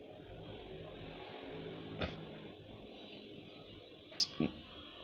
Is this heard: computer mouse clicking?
yes